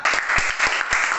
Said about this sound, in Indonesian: kita kasih tepuk tangan sekali lagi yang meriah untuk kelompok yang maju ke depan